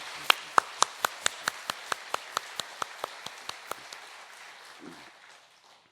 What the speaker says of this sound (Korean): 우리 찬양대를 위해서 격려의 박수 한번 보내시죠.